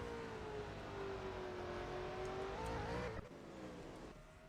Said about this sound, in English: The car is going through turn 1